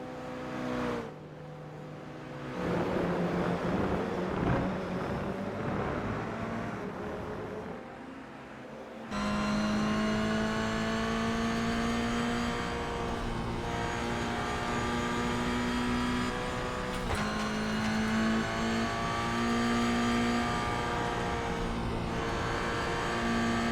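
Toyota GR86 race car engine in iRacing at Lime Rock Park, droning steadily through the run with rising revs and gear-change steps, loud and continuous with no talk.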